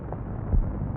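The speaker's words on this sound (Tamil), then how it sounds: "இங்கு வெடித்த பீரங்கி சத்தத்தில்" A single cannon shot sounds as a dull, muffled low boom near the middle, short and heavy, set against a band-limited background hiss.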